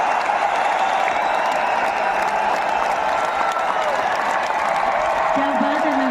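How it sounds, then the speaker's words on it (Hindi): A large crowd at an RCM anniversary gathering applauds continuously and loudly, a dense even roar of clapping with a brief voice rising over it near the end. "जोरदार तालियां"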